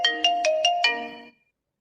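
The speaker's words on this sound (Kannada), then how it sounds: "ಫೋನ್ ಬಂತು ನೋಡಿ" A phone ringtone sounds for an incoming call, a short melodic tone repeated in five quick bursts over about a second, clear and close before cutting off into silence.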